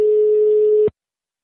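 A single steady telephone tone sounds loud and clear for just under a second, then cuts off abruptly into silence.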